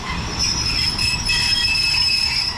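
A train in Bangkok rolls past with steady high-pitched wheel squeal over a constant low rumble, loud and close throughout.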